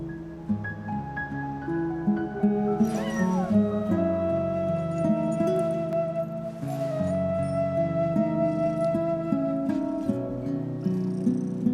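A cat meows repeatedly in Genshin Impact, its cries rising clearly above a steady game music bed throughout the scene.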